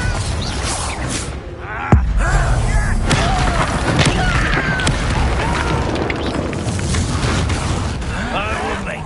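Explosive Confringo fire spells in the game Hogwarts Legacy during a duel, a sharp boom near the two-second mark followed by a sustained rumbling roar of magic effects and battle noise, with voices over it.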